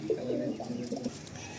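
Pigeons coo softly in a loft, a low rolling burble repeated a few times close by, with no talk over it.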